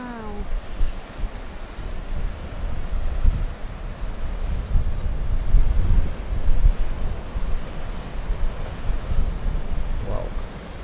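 Strong wind on a seaside cliff path buffets the microphone, a loud continuous roar with gusty surges and surf beneath, while people exclaim and talk briefly.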